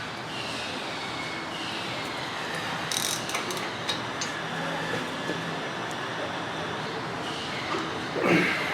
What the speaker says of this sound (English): we can tighten up these bolts for the caliper mounting assembly.